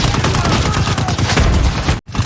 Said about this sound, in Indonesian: Dengan Gatling gun di tangannya, dia pun menembak dengan membabi buta.